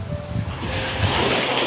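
Strong ocean waves surge and wash in a continuous roar by a shoreline, mixed with gusting wind buffeting the microphone.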